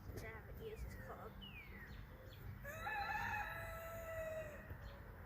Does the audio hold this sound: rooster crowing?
yes